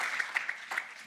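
An audience at a start-up awards event applauds, a steady wash of clapping hands heard at a moderate distance for about a second.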